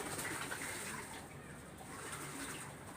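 Soft pigeon coos close by at a faint level over a steady watery wash, with no talking.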